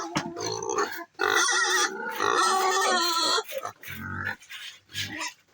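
Pigs grunting and squealing on a small farm, loud and close, in dense overlapping bursts with brief pauses.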